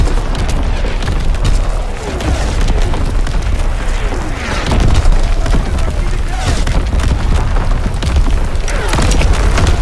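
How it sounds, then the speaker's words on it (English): Artillery barrage in the shooter game Call of Duty WW2, a dense, continuous rumble of heavy booms and explosions, loud and close, with a radio voice speaking over the bombardment. "Artillery ready for orders. Awaiting coordinates. Firing primary battery."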